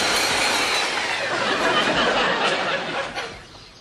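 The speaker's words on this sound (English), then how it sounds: "when it comes to roughing up the pipes, there's an easy way to do that using the belt sander" A belt sander roughs up pipes with a loud, continuous rasping grind that holds steady for a few seconds, then tapers off near the end.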